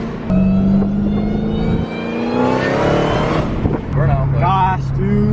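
A Dodge Hellcat engine at quarter throttle, loud and close, rising in pitch as it accelerates, easing off, then pulling again, with people talking over it.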